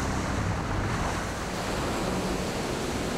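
Ocean surf rolls in steadily where the San Juan River, the border river between Nicaragua and Costa Rica, meets the sea, a dense continuous wash of breaking waves with wind noise and no voices.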